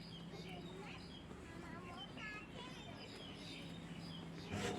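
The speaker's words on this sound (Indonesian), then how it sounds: "Jadi banyak suara burung yang masih berkicauan" Small birds chirp and tweet in scattered short calls on a morning street, fairly distant and thin beneath a steady outdoor hum, with a person talking over them.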